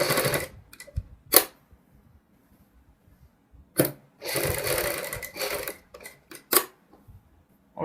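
Bursts of a sewing machine stitching a kurti neck, with short rapid runs of needle clatter separated by quiet pauses and small clicks, one longer stretch in the middle, close and fairly soft.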